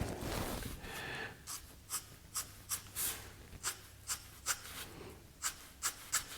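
A freshly sharpened pencil with a knife-sharp point draws fine lines, giving a series of short, dry scratching strokes in a steady rhythm, close and quiet with no voices.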